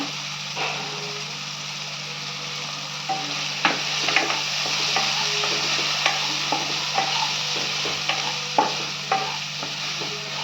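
Chicken masala sizzling in oil with tomatoes in a pan for Dindigul chicken, steady frying hiss broken by repeated scrapes and taps of a spoon stirring, close and alone.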